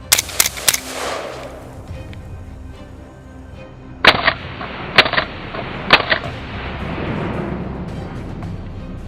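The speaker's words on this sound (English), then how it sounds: "The thunderous shot echoed across the swamp, marking yet another successful strike." Rifle shots during a wild boar hunt in a swamp, several sharp loud cracks, a quick cluster at the start and then three more spaced apart, each trailing off in an open outdoor echo.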